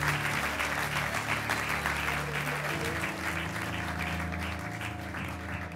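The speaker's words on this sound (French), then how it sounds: "Oui, tu peux acclamer le Seigneur." A church congregation in Paris applauds and acclaims the Lord during a worship service: loud, sustained clapping with crowd voices mixed in, steady throughout and easing slightly toward the end.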